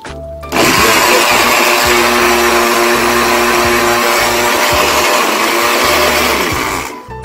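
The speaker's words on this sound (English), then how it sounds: "You have a blender right here." A blender whirs loudly and steadily for several seconds, starting abruptly and winding down at the end.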